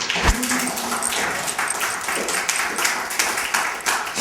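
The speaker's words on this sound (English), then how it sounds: "let's give him another round of applause." Warm audience applause after a poetry reading at a poetry center, many hands clapping in a continuous, fairly loud patter with individual claps audible, sustained evenly for several seconds.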